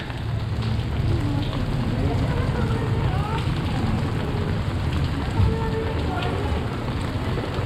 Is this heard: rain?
yes